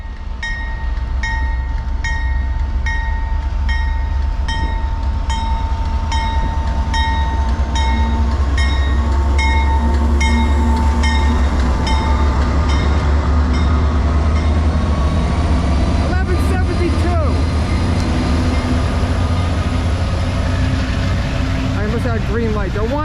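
A Norfolk Southern freight train, the eastbound 22X, passes close on the tracks with a loud, continuous rumble and wheel roar. Steady tonal whines sit on top, and squeals and clatter rise near the end.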